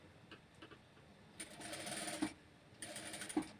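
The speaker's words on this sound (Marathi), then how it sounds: "आता या गळ्याला सुद्धा मी इथे दाबटीप मारून घेणार आहे" A sewing machine topstitches the neckline of a size 32 princess-cut blouse, with two short, quiet runs of fast whirring stitches separated by soft handling noise.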